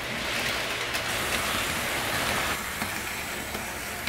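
A small HO-scale model train locomotive motor whirs steadily with a faint rattling hum, quiet and continuous, no voices.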